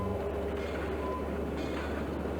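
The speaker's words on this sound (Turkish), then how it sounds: "yerden tren geçiyor abi" Train rolling past in the zombie game They Hunger: a steady low rumble with faint rhythmic rail clatter, continuous and moderately loud, no talk over it.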